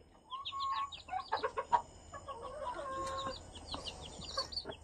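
Three-day-old Rhode Island Red chicks peep close by in quick bursts of shrill, high chirps, some calls longer and lower, rising and falling in a lively cluster.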